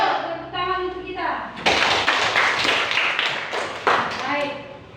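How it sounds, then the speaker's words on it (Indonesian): A class of students in a school lesson claps their hands together in a short, loud burst of about two seconds, with a teacher's voice talking before and after the applause. "Tepuk tangan untuk kita."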